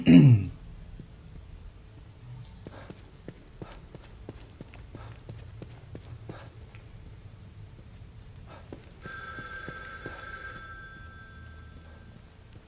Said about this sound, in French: T'as le téléphone qui sonne en fait.